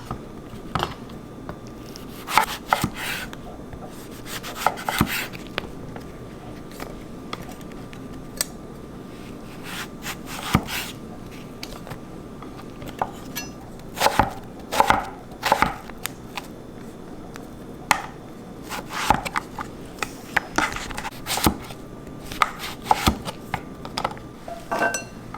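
Repeated knife chops on a board while preparing vegetables for fried calamari, sharp irregular knocks close by, scattered in loose bursts over a low room hum.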